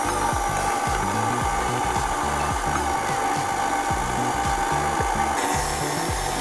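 An electric stand mixer beating almond pound cake batter, giving a rhythmic, repeating churning thump over a constant motor whir, steady and fairly loud throughout.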